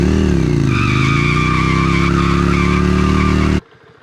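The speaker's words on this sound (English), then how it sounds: "It's got a skinny rear tire and a pretty skinny front, so this thing will rip a burnout" Yamaha Virago 535 motorcycle with a skinny rear tire doing a burnout, its engine roaring steadily under a loud, sustained tire squeal for about three and a half seconds before cutting off abruptly.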